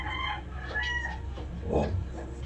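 Chickens cluck and call in the background at a Sunday-morning chicken market, with a rooster-like cry rising briefly among scattered bird noises.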